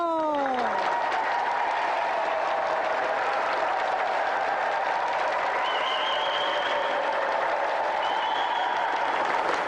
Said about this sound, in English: ladies and gentlemen, another round of applause for tonight's contestant, Richard Sylvester.